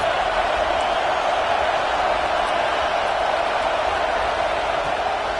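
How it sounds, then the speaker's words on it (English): A dense football stadium crowd roars steadily during a third-down red zone play in a University of Texas game, a continuous wash of cheering with no breaks or distinct voices. "Third down, red zone play, crowd alive."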